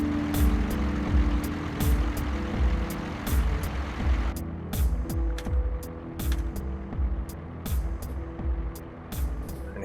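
A Peterbilt truck in American Truck Simulator rumbles steadily with a low engine drone, while sharp clicks and short pulses repeat across it at a fairly regular rhythm.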